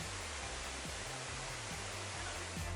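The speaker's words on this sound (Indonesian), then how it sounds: "Suara gemericik air" Water from the Curug Bidadari waterfall, a three-tiered falls ringed by rock cliffs, pours as a loud, unbroken roar of broadband rushing noise, with no voices.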